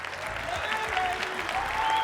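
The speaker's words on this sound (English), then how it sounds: "Let's give the veterans a big round of applause" A crowd applauds veterans at a speaking event, giving brief, dense clapping at close range with a few voices and whoops mixed in.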